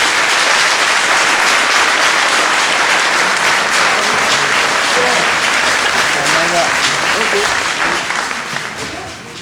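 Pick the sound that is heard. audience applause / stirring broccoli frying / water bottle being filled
audience applause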